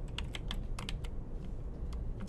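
Computer keyboard keys clattering in a quick, uneven burst of clicks while code is typed, close and fairly loud over a low room hum, with no speech.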